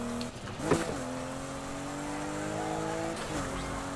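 Need for Speed Heat street car, not built for drifting, holding a steady high engine drone while drifting through a corner, with tire squeal and a gear shift breaking the rev line twice, close and continuous without talk.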